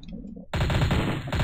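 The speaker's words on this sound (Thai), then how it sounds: "ยิงไม่โดนเลย" Rapid automatic gunfire from the video game Strike Force Heroes 2 bursts in loud and sustained after a brief quiet lead-in, a dense rattling stream of shots with no speech.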